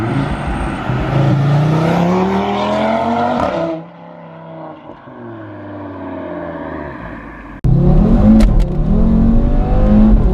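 A tuned 2018 Audi RS3 with 510 bhp revs hard and loud, its engine note climbing steadily through the gears, then easing off into a quieter drone before surging back to full, roaring acceleration.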